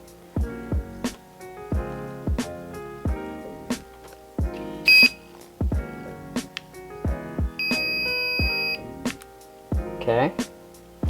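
Electronic beeps from a sound simulator module being set up in a Traxxas TRX-4 RC crawler, several short tones and chirps scattered among a spoken voice and clicking sounds.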